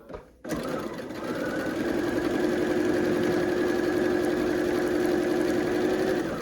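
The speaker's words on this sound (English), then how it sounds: "And let's just sew." A sewing machine starts up after a short quiet moment and stitches quilt pieces together for a red, white and blue Lemoyne Star quilt, humming loud, close and steady with a constant whirring tone.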